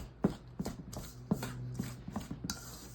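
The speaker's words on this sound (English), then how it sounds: "Let me just use a fork first before I use my hand blender." Fork mixing butter and sugar for a strawberry cake batter in a bowl, a series of sharp clinking scrapes against the bowl at an irregular rhythm, close and fairly loud, with no talk.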